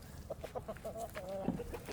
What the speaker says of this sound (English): He is a barred rock rooster.